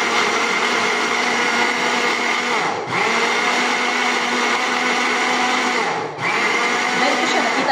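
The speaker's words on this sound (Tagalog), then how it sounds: "kailangan din ng blender. Hindi ito pwedeng mawala para ma-mix ng mabuti." A kitchen blender whirs loudly while mixing homemade condensed milk ingredients, a steady motor drone that briefly dips twice before resuming at full speed.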